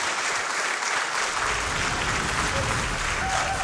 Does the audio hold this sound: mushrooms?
no